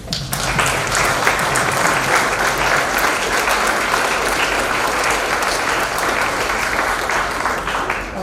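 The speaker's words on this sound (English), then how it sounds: "please join me in giving a big round of applause to the fellow students" Audience at an MBA inauguration ceremony gives a sustained round of applause, dense even clapping filling the hall from start to finish, loud and steady with no speech over it.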